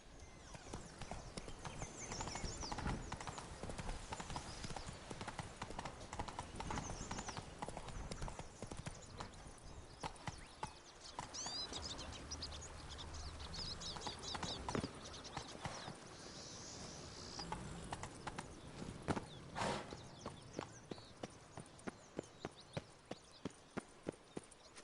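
Horse hooves clip-clop steadily on the ground in The Witcher 3, the rhythmic footfalls running under game music and ambience, with sharper, distinct hoofbeats near the end.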